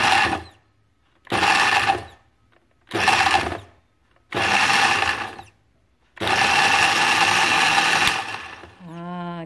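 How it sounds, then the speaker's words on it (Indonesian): An electric blender coarsely grinds a spice paste for sayur lodeh tewel, running in five loud bursts with short pauses between them. Each burst grows longer, and the last runs for about two seconds before the motor winds down. "ini caranya kalau ngalusin bumbu blender, nggak usah halus-halus"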